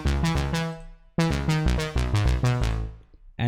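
A dry trance synth lead with no effects, playing a bright, plucky staccato melody that stops briefly around the one-second mark and then starts again.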